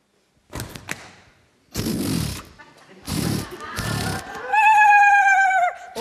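A horse whinnies loudly near the end, a long wavering neigh following bursts of speech-like noise and movement; voices are heard before it.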